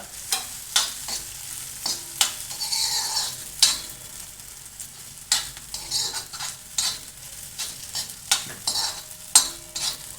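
Pavta beans are sautéed in oil in a black iron pan, with a spoon scraping and clanking in repeated strokes over a low, steady sizzle.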